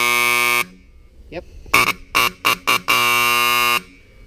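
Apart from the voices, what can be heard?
Federal police car buzzer alarm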